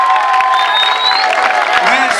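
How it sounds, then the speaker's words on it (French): An audience at a school awards ceremony cheers and applauds loudly for a doctor, a dense burst of clapping, shouts and whoops from a nearby crowd. "Applaudissez le docteur Achille Lonzi."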